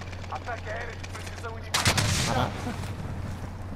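A burst of rapid gunfire in Call of Duty: Modern Warfare erupts midway through, loud and close, over a steady low hum and faint game audio.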